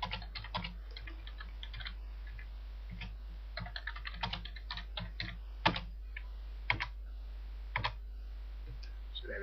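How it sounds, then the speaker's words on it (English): Keys tapped on a computer keyboard while entering text, coming in quick irregular bursts of close, crisp clicks with short pauses, over a steady low hum and no talking. "I'm going to start typing."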